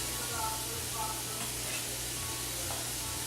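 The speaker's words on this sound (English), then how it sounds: "Put in the leeks first. We're going to let those cook for about 3 to 4 minutes." Leeks soften in a pan over medium-low heat, a soft continuous sizzle and hiss sitting under a low steady hum, with a few faint stirring scrapes.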